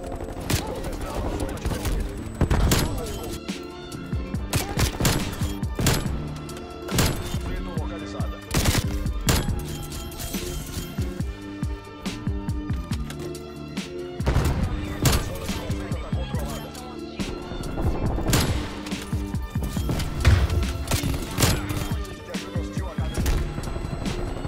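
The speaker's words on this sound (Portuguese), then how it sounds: "Tá tudo explodindo." Gunfire and explosions in a sniper video game: repeated sharp shots and heavy blasts in irregular bursts throughout, loud and close, with a voice talking in between.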